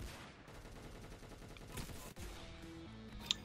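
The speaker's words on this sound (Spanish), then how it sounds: "le estoy pegando tiros a todo el mundo, nadie se muere" Gunfire in the Roblox game Arsenal: rapid, fairly quiet bursts of shooting and a few sharper shots blend into continuous game action, with no speech.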